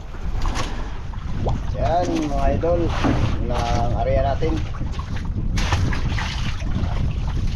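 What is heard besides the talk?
wind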